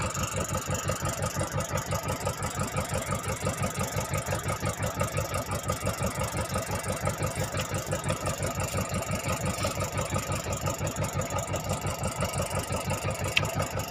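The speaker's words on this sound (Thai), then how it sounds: "ขอโทษนะครับ เสียงต้องดังนะครับ เพราะเราปั่นไฟนะครับ" Generator engine aboard a coastal squid-fishing boat chugging steadily at a fast, even pulse, loud and close, with a faint metallic whine riding over it throughout.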